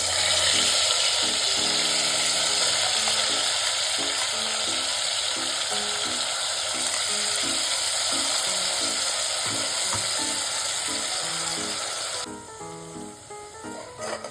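Green masala paste fries for masoor biryani in a steady, loud sizzle, with rhythmic scraping and stirring clicks over it. The sizzle drops away sharply near the end.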